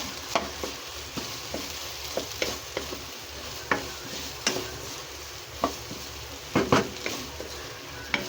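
An egg is stirred into a hot frying pan: repeated sharp scrapes and taps of a utensil against the pan sound every half second or so over a soft continuous sizzle.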